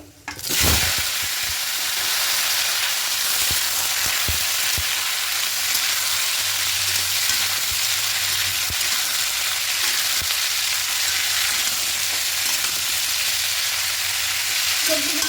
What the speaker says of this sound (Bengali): হালকা একটু ভাজা ভাজা করে নেব সবজিগুলো